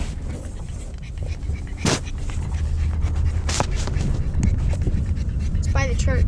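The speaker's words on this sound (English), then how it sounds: "I have this dog in my hands." A young female pug pants in quick, steady breaths close by while being held in a car, with rumbling vehicle noise, a couple of sharp thumps and people talking nearby.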